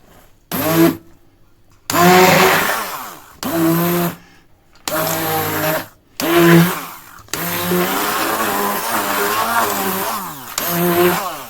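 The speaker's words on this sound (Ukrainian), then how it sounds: "А тепер все це перебиваємо погружним блендером." An immersion blender whirs in several bursts, blending low-fat cottage cheese, stopping and restarting with short pauses, its motor loud and close with a grinding, churning tone.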